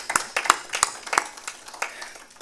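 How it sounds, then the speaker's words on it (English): A convention audience in Kenya claps in a scattered, sharp rhythm, giving applause for Dr. Bunyasi Sakwa with distinct hand claps in a lively round. "we give him a round of applause"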